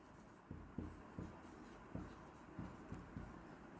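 A maths equation written out by hand, a series of close, soft scratchy strokes in an uneven rhythm, with no talking.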